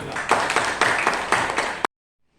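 Applause for Ibu Enda at a school gathering, a short burst of clapping from a small group that ends abruptly into silence.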